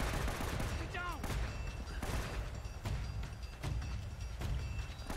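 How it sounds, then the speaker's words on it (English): Gunfire in the video game Uncharted: Drake's Fortune, a dense fusillade of repeated shots over a rumbling, noisy background, with faint voice-like sounds mixed in. "Who's shooting me?"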